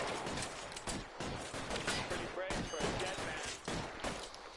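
Gunfire in a shootout in the video game L.A. Noire: repeated sharp broadband shots and bursts crackling steadily throughout, loud and dense, with voices faintly mixed in.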